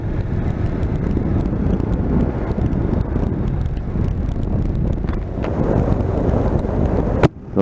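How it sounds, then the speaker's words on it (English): Steady, loud rushing wind roar from the visor seals of a motorcycle helmet while riding a new bike, filling the whole stretch with broadband buffeting, a brief dip and sharp thump near the end. "I can hear the wind noise from the seals around the visor on this helmet"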